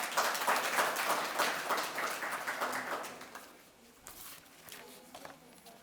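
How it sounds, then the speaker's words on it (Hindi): Audience applause at a university event for National Education Day, a burst of moderate clapping that thins out and fades after about three seconds, followed by scattered claps. "तालियों के साथ।"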